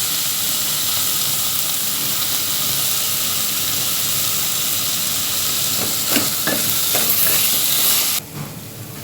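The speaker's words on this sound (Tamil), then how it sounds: "தக்காளி சேர்த்து நல்லா வதக்கலாம் அதோட கொஞ்சம் உப்பு சேர்த்துக்கோங்க" Tomatoes with salt sauté in a pan, producing a steady, close hiss and sizzle. A few faint clinks of stirring come near the end before the sound drops suddenly.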